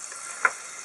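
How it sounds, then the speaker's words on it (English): Vegetables and beef fry in olive oil and butter in separate pans, a steady soft sizzle with one brief louder pop partway through. "start frying up both the vegetables and the beef in separate pans"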